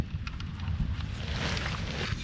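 Cold wind blowing outdoors on a 25-degree day, buffeting the microphone with a rough, gusty roar that swells and stays loud for the whole moment, no talking.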